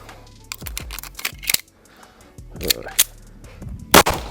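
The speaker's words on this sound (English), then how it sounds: "let's dump a mag in it, see if she still runs" Shots from a 2011 pistol, a Jacob Grey TWC Hex, emptying a dirty magazine during a torture test: a string of sharp, loud cracks with uneven gaps between them, close to the listener, alone without talk.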